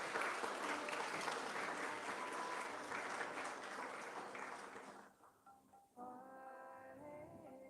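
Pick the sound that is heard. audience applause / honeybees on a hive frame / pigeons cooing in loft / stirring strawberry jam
audience applause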